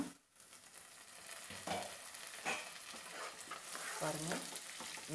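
Eggs and onions fry in a pan with a faint, steady sizzle. Occasional stirring and scraping rise above it and a lid clatters briefly. Quiet and close, with no talking.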